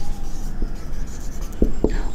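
Pen scratching across paper while a math equation is worked out, a few short marks and taps over a steady low room hum, close and moderately quiet.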